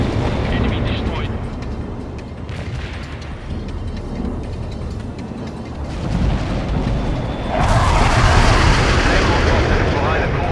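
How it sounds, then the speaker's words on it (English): Bomb explosions and battle effects from the video game World in Conflict, rumbling booms and mechanical clatter that build to a loud, dense blast near the end, with radio-style voice chatter over the action. "I'm inbound for bomb delivery."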